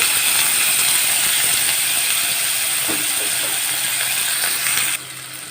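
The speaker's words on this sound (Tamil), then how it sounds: "கடுகு பொரிய ஆரம்பிச்சிருச்சு." Mustard seeds splutter in hot oil as a leftover rice dish begins, giving a dense, steady crackle that stays loud throughout and drops suddenly just before the end.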